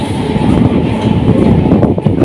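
A Haldia Fast EMU local train rumbles through a station in Kolkata without stopping, a loud continuous roar with rattling wheel noise and rushing wind, heard from aboard.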